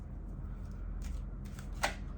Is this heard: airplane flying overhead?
no